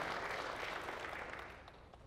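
Applause from a church congregation fills the space with a steady, fairly faint wash of clapping that fades slightly toward the end, with no speech over it.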